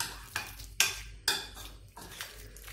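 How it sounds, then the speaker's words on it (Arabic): Olive oil, herbs and chopped parsley being stirred in a metal pan or bowl, a few distinct scraping clinks of a utensil against the side over soft background hiss, close up and without speech. "غادي نخلطوا هادشي مزيان"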